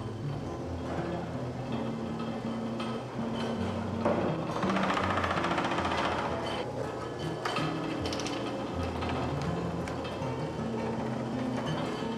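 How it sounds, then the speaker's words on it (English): A machine scraping beeswax and overflowing honey off the outside of honeycomb frames runs with a continuous mechanical clatter and hum, surging a little midway, with faint voices underneath. "First, a machine scrapes the beeswax and the overflowing honey from the outside of the"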